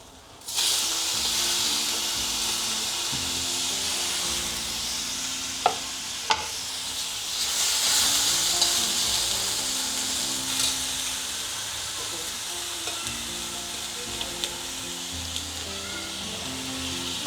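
Tomatoes hit frying onions in a hot pan, setting off a loud, hissing sizzle that settles into a steady crackle, with a couple of sharp utensil knocks early on.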